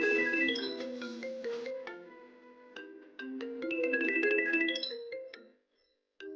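A phone ringtone for an incoming call plays as a bright melodic electronic tune, looping steadily and fairly loud, then breaking off briefly before resuming near the end; no one speaks over it.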